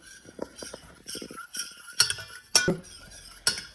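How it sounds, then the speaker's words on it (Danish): A spoon scrapes and clinks against a pot on the stove while stirring a thickening mixture over low heat, producing quiet, irregular metallic taps and brief ringing knocks close by. "Og så vil jeg røre videre."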